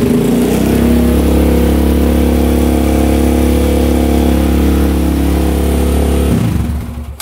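A dirt bike engine runs on choke, close and loud, holding a steady rough drone for several seconds before dying away at the end.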